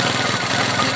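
A motorcycle engine runs steadily, a loud, close, continuous rumbling drone with no pauses.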